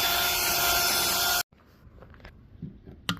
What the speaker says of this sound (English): These little cheap scrapers sure do the job real good.